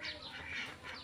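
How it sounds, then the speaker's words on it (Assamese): Farm ducks give a few soft, nasal quacks, faint and somewhat distant, in a short burst with no voices over them. "হাঁহ পুহিছে ফ্ৰেণ্ডছ"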